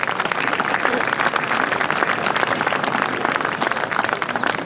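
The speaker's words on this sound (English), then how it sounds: "Give a big round of applause these." Loud, sustained applause from a school audience at an annual function, honouring the NCC student team; dense, rapid clapping from many hands fills the space evenly and continuously, close and full.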